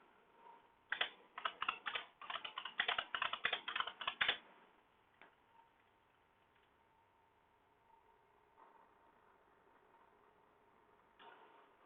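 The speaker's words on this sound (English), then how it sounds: "I type really slow." Typing on a computer keyboard, a burst of quick, uneven key clicks for a few seconds, then quiet with a couple of isolated taps.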